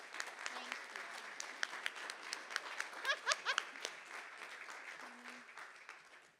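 A member meeting audience applauds and cheers from a distance, a soft, continuous patter of clapping with a brief, brighter swell of whoops in the middle.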